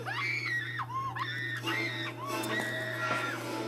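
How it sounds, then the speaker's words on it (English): A woman screams repeatedly in a horror film, shrill rising and falling wails in quick succession over a steady low hum, loud and close. "I know you're hearing her scream again."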